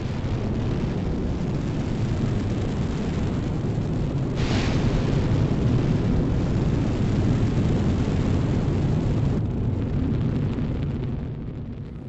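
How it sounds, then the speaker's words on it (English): A NASA Space Shuttle rocket launch produces a continuous, loud, deep roar that holds steady for about twelve seconds, with a brief crackling surge partway through and a slight fade at the end. "What's more thrilling than to watch a rocket launch?"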